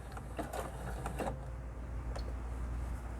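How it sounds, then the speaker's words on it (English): A sewing machine back stitches a few stitches on fabric, giving a short mechanical chatter over a steady low motor hum. No one speaks. "And I'm going to back stitch just a couple stitches."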